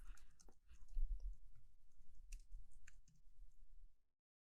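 Rapid, light typing on a computer keyboard, a dense run of close, soft key clicks lasting several seconds before stopping abruptly, with no one speaking.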